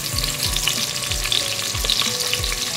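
Steady frying sizzle of onion and tomato in a pan for a bottle gourd and lentil curry, with regular low scraping strokes of a spoon stirring, close and continuous.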